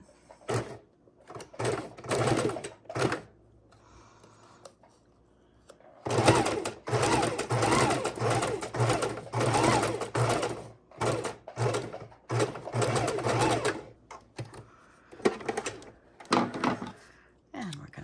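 A sewing machine stitches down the center of a paper craft tag, running in several bursts of rapid mechanical whirring with short pauses between, close and clear.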